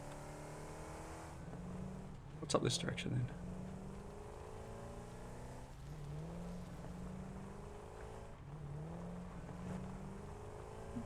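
A car drives in the video game Satisfactory, its steady engine drone running throughout with a brief louder burst near the start, while a player talks over it.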